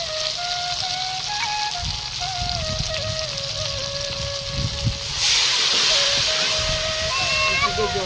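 Water hitting cumin and chili powder in a hot pan for Bengali vegetable khichdi sets off a sudden burst of steady hissing sizzle partway through, following quieter low frying crackle and some faint tonal background sounds.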